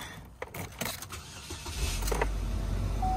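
A Chevy with 172,000 miles on it cranks and starts: a few clicks and creaks come first, then the engine catches into a steady, loud, low rumble that holds to the end.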